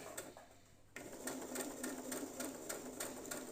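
Sewing machine stitching fabric in a straight line, starting after a quiet pause and running in a quick, even rhythmic clatter, soft and close.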